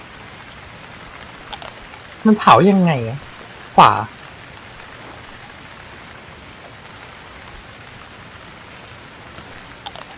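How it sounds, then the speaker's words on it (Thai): Steady rain falls in the survival game Stranded Deep, a soft continuous hiss through the whole stretch while a voice briefly speaks over it. "เวลาฝนตกนี่เป็นอะไรที่นานมากก่อน"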